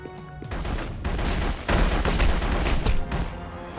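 Rapid gunfire bursts in The Punisher PS2 video game, loud and dense shots clustered through the whole span, intensifying in the second half amid game sound effects.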